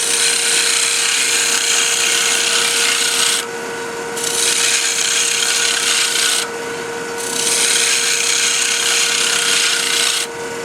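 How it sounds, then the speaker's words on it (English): A round nose scraper cuts wood on a lathe, giving a steady, loud rasping scrape with a constant hum beneath. It pauses briefly three times and carries on without any talk. "Now, while we're here, we're going to take a regular round nose scraper."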